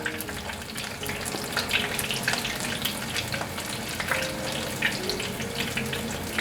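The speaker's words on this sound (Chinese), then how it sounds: "再继续炸，都炸成金黄色了" Food deep-fries in hot oil until golden, a close, continuous bubbling sizzle with dense crackles and pops holding steady throughout, no voices.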